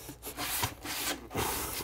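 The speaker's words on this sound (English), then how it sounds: "I'm just going to use a hand sanding block" A hand sanding block scuffs a wooden kitchen cabinet surface before priming, giving close, steady rasping strokes in a repeated back-and-forth rhythm with brief pauses between passes.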